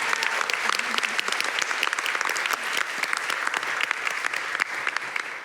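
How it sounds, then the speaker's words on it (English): At a live debate event, the audience gives a final round of applause to the debaters: a thick, continuous wash of many hands clapping, loud and steady throughout. "Could we give them one last round of applause for a job very well done?"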